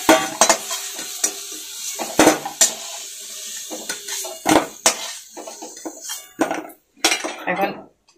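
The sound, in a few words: frying potatoes in oil being stirred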